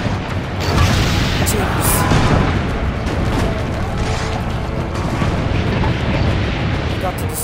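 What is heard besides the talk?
cannon fire and explosions in Assassin's Creed Brotherhood video game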